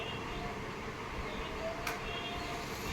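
A toy train runs with a steady whirring, rattling hum that stays even throughout, with a brief sharp click near the end and no talk.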